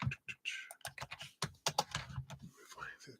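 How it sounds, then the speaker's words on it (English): Rapid, uneven computer keyboard typing sounds up close, clustered bursts of key clicks alongside a speaking voice during a live online reading stream. "The keyboard."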